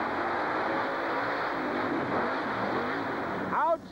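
A monster truck engine roars loudly and continuously at a 1991 USHRA event, a broad droning rumble with a brief rising rev near the end.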